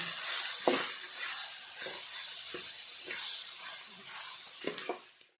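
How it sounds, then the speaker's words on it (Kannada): Ground masala frying with golden urad dal in a hot pan, a steady wet sizzle with faint scraping stirs at intervals, close and moderately loud, no talking. "ಅದಕ್ಕೆ ರುಬ್ಬಿಕೊಂಡ ಮಸಾಲೆ ಹಾಕೋದು ಫ್ರೈ ಮಾಡಬೇಕು"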